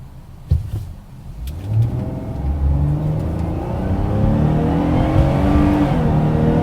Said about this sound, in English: So I shifted from second to third, and it was just unlimited power.